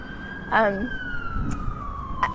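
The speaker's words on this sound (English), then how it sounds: "can you hear the sirens?" A distant siren wails with a slowly falling tone outdoors, while a person talks nearby over light background noise.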